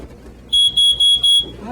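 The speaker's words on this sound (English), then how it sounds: "We will test the smoke detector by pushing the test button, just to make sure that it's going to work." Household smoke detector sounding during a test-button check: four loud, piercing high beeps in quick succession, each about a fifth of a second long, close to the listener, with faint background noise between them.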